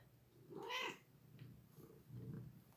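A cat gives one clear, faint meow, rising and falling, followed by a couple of softer, shorter vocal sounds in an otherwise quiet indoor space.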